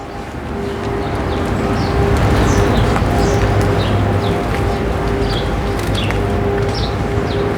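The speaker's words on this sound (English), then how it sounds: "Birds look at me with curiosity, continue their little talks." Birds coo and chirp in scattered short calls over a steady outdoor background hum, fairly close and continuous throughout.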